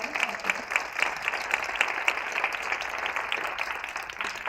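Audience applause for a Leadership Academy at a storytelling event, dense steady clapping from a crowd filling the room for several seconds without a break.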